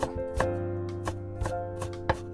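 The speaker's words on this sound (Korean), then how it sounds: "이렇게 이것도 얇게 썰으셔 가지고요 잘게 다져 주세요" A kitchen knife finely minces onion on a cutting board with steady, close knocks at an even rhythm over a constant background hum.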